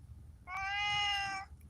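House cat lets out a single long, loud meow lasting about a second, close by over a quiet room.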